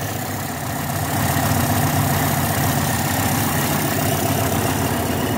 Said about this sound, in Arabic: ماكينة هادية.